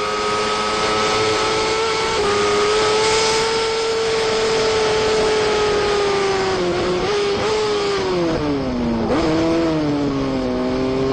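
Monster Energy Kawasaki AMA Superbike heard onboard at Road Atlanta, its engine screaming at high revs in one sustained loud drone that holds steady, then dips and climbs again as the rider shifts and brakes.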